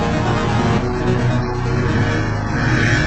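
Reversed harp sample slowed to half time in FL Studio, a continuous loud, smeared drone of overlapping tones with a dark, dull top and no clear attacks.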